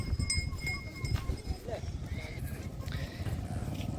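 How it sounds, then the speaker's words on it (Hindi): Hooves of a Kutch-breed horse clip-clopping in a steady, quick rhythm throughout, fairly close, partly under a voice talking and some background crowd noise. "कच्छ की बेस्ट नस्ल का घोड़ा है।"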